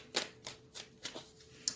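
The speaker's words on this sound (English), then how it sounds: "While I continue to shuffle" A tarot deck is shuffled close and quietly, with a handful of brisk, crisp card riffles spaced through a short, otherwise hushed moment.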